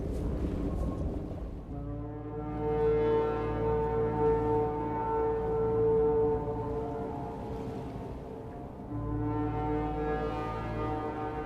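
In Subnautica, the approaching Sunbeam ship sounds a deep, foghorn-like drone that swells and fades in long, low tones, fairly faint and distant, with no talking.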